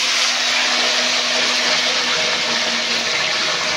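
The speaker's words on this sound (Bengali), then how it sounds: "গাইস এখন আমি এটার মধ্যে আলু ছেড়ে দিচ্ছি" Potato pieces frying in hot oil, a dense, loud, continuous hiss and bubbling that holds steady throughout, with no talk over it.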